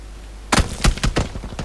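Gunfire in the battle royale game PUBG: a burst of loud, close shots in quick irregular succession, several sharp cracks over about a second.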